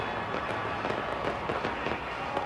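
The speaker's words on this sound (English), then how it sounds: "Fireworks going off." Fireworks burst continuously at a 2006 Busch Series race win celebration, a loud, dense crackle of rapid pops that fills the air with no gaps.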